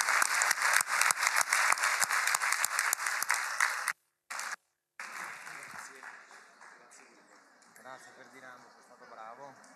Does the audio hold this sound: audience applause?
yes